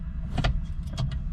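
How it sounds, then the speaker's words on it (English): Electric sunroof motor on a Lexus IS300 whirring open in two short bursts, close and fairly quiet over a steady low interior hum. "going to open the old sunroof"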